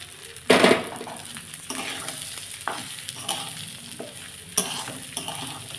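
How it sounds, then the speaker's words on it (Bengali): Rice frying on low heat in a pot with cardamom, cloves and cinnamon for pulao, a soft sizzle broken by several sharp scraping stirs and clinks, close up, with no voices. "হালকা আঁচে ভালো করে একটু ভেজে নিতে হবে।"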